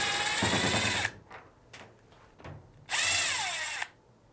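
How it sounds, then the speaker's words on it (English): A power screwdriver whirs in two bursts, each about a second long, as it backs screws out of a Fisher & Paykel washer lid. The tool is close and loud, with a ratcheting pause between the runs. "we'll now remove the two screw covers and the two screws"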